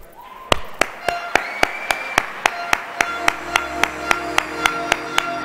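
Audience at a televised beauty pageant anniversary show clapping in unison, sharp, loud, evenly spaced claps about four per second, with a sustained musical tone running underneath.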